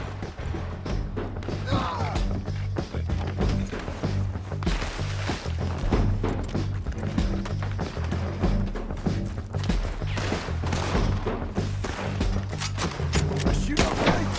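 Dense gunfire in the Western game Red Dead Redemption 2, rapid overlapping shots, thuds and impacts crackling continuously at close range, with a voice speaking briefly amid the fusillade.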